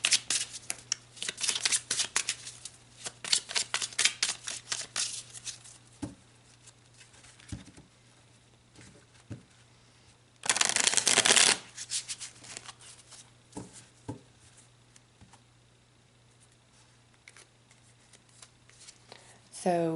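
Tarot cards being shuffled by hand in repeated quick riffling bursts, close and crisp, with one louder sustained shuffle near the middle and quieter card handling between.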